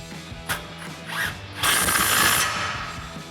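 A ratchet on a 21mm socket tightens a ball joint nut on a Ford F-150 front suspension during an upper control arm and leveling kit install. Close, brisk clicking bursts build into a louder, sustained stretch of ratcheting.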